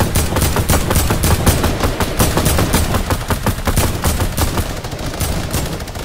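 Rapid automatic gunfire in the Fortnite video game, loud dense bursts of shots rattling continuously through the whole stretch with no talk.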